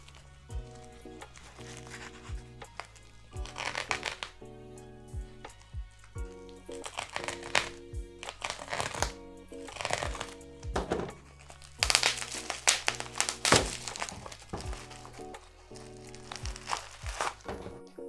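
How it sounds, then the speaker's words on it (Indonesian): Crinkling and crackling of packaging being handled and opened for a Zeblaze GTS 2 smartwatch, close and irregular, with repeated rustles, thunks and sharp crackles coming in bursts. "Kita unboxing dulu."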